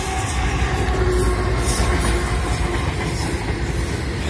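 A diesel locomotive hauling oil tankers rolls past on the rails, a loud, steady rumble of wheels and engine with faint clatter, close and continuous, with no talk.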